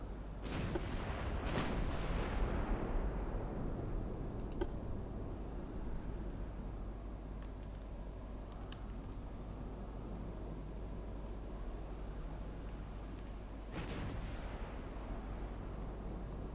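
Naval guns firing in the Ultimate Admiral Dreadnoughts game during a British 1900 campaign, with a few sharp booming shots early on, another near the end, and long rumbling, hissing wash between them.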